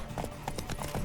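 Hooves clip-clop in a quick, rhythmic run as a horse gallops during a race in The Witcher 3, the hoofbeats moderately quiet and repeating steadily over about a second.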